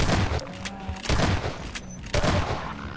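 Rapid bursts of gunfire from Half-Life 2: Episode 2, loud and close, with several sharp volleys and echoing tails spread over a few seconds.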